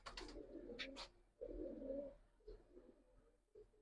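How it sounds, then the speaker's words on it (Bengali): Silver Giribaz pigeons of an old breed give close, soft throaty coos in a few repeated bursts, separated by brief pauses, with faint chirpy sounds at the start. "কবুতর"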